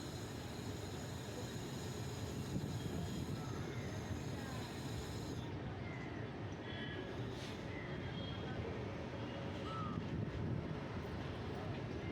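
Jan Shatabdi Express, train no 12072 from Manmad to CSMT, running near Igatpuri toward a ghat section, a steady low rumble of wheels and carriage noise throughout with faint higher squeals, heard from inside the train.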